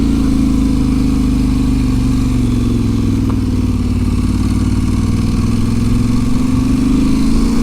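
An Aprilia Tuareg 660 motorcycle engine labouring up a steep off-road climb in first gear: a loud, steady, close mid-pitched drone with slight shifts in pitch, continuous with no pauses.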